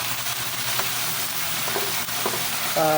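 Chicken for adobo sa gata sizzles steadily in a pan, a constant bright frying hiss with occasional stirring scrapes, close up and without speech.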